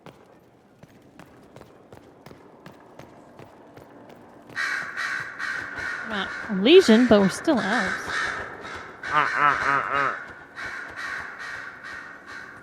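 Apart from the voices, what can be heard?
crows cawing loudly in video game Dragon Age: Inquisition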